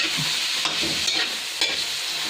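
Garlic sautéing in a pan, cooked in butter for garlic shrimp, a soft steady sizzle with a few stirring clinks, close but fairly quiet and free of talk.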